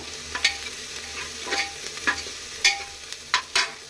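A tempering for fenugreek-leaf rice sizzles steadily in a pan while a spoon stirs and scrapes against it in several sharp, close strokes, with no voices.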